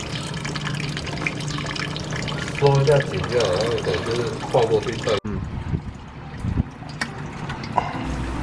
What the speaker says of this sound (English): Now drain the cooling water.